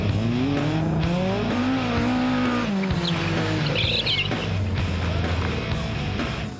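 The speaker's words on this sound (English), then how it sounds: "Most drivers had their tyres squealing for the whole way around." Rally cars race on a dry track at a motorkhana event, their tyres squealing in long, wavering screeches over a loud engine roar, with some higher chirping squeals partway through.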